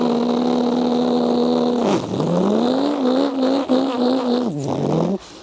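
A kid imitates a Toyota Supra engine flying past, a loud, close vocal engine roar with rising and falling revs like gear shifts, ending abruptly after about five seconds.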